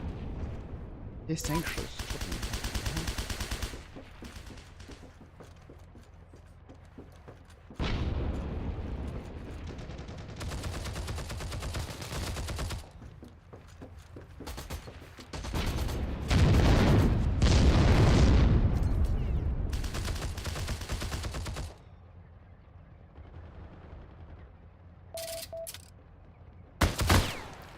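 Gunfire in the Heroes & Generals video game comes in several loud bursts and booming volleys separated by quieter stretches, with a player's voice speaking briefly among the shots.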